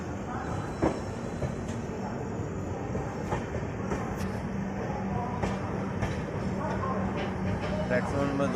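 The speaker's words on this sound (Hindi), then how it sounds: "प्लेटफॉर्म नंबर 2 पर आई है ये ट्रेन शताब्दी एक्सप्रेस" New Delhi–Lucknow Shatabdi Express pulling into platform 2 at Ghaziabad station, a steady low rumble of rolling coaches with occasional wheel clacks, with a voice talking over it throughout.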